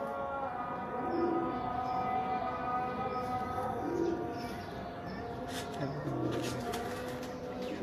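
Soft, low cooing from pet breeder pigeons repeats in slow rolling phrases about every few seconds, with faint chirps scattered in a quiet indoor loft space.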